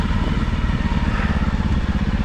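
Honda CRF300L motorcycle engine pulling hard in first gear on a woodland enduro trail, a loud, close, steady thumping drone with rapid regular pulses throughout.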